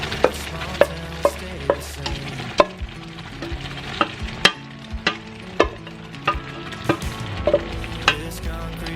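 Mung beans (munggo) frying and being stirred in a pan: a steady sizzle runs underneath while a spoon repeatedly clacks and scrapes against the pan in an irregular rhythm, close and clear.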